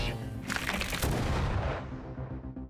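An electric car's battery bursts in a fire, a loud, sustained roaring blast with cracking bursts rising around the one-second mark, then slowly tapering as the fire keeps burning.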